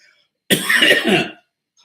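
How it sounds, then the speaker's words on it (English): A single harsh, forceful cough or throat-clearing burst lasting under a second, close and loud, with silence around it. "going to do a very male cough"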